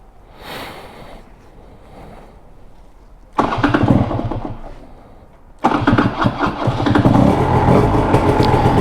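Electric starter cranking a hard-starting 180 kit motorcycle engine in two loud bursts, the first about two seconds long, the second longer and rougher, following a quiet stretch.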